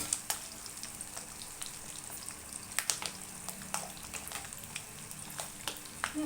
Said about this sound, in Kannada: ಬೆಳ್ಳುಳ್ಳಿ ತೊಗೊಂಡಿದ್ದೆ ಒಂದು ಗಡ್ಡೆ ನಾನು ಅದನ್ನು ಸೇರಿಸ್ತೀನಿ ಸ್ವಲ್ಪ ಜೀರಿಗೆ ಸೇರಿಸ್ತೀನಿ